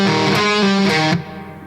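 A short burst of heavily distorted electric guitar playing a quick riff, loud and sustained, then ringing out and fading.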